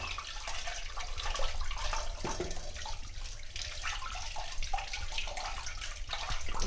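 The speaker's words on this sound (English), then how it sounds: "Now we are washing bootai fish once again" Tap water runs steadily and splashes as bootai fish are washed in a sink at home, a continuous close-up rush with faint irregular drips and splatters throughout.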